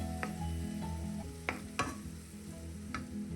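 Chicken liver sizzles in a pan as a spoon stirs it, a steady close frying hiss broken by a few sharp scraping clicks.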